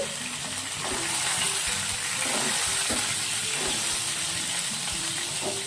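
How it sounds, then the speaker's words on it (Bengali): Five eggs frying in hot oil in a pan, a continuous bright sizzle with faint scraping and clinks of stirring underneath, no talk. "লাল লাল করে ভেজে নেবো পাঁচটা ডিম"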